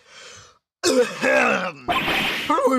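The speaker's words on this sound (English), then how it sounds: "Maybe I should clear my throat." A short voiced hum, a brief pause, then a loud, drawn-out throat clearing with a gravelly, grunting quality, close and exaggerated like a character voice in Phoenix Wright: Ace Attorney Trilogy.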